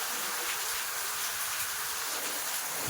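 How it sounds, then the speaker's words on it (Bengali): Heavy monsoon rain pouring down steadily outside during a thunderstorm, a dense continuous hiss with no letup and no voices. "অঝরে বৃষ্টি হয়েই যাচ্ছে।"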